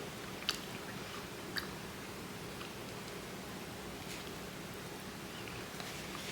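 Canned home-made bacon being chewed at close range during a taste test, quiet soft mastication over a hissy background with a couple of sharp crunchy bites.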